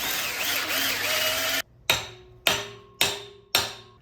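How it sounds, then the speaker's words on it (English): Four loud, evenly spaced hammer blows drive splined studs into a Cobra crank pulley tri-bar, each ringing metallic strike decaying quickly, preceded by a steady whirring machine noise that cuts off abruptly. "Drop them in there and hammer them like that."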